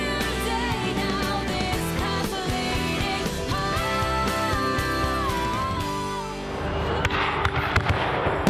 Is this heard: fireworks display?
yes